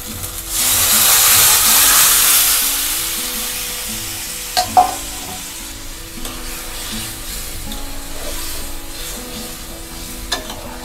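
Tomato masala frying in a pan as cauliflower and rui fish curry vegetables are stirred in; a loud sizzle bursts up at first, then settles into a steady hiss with a couple of sharp utensil scrapes.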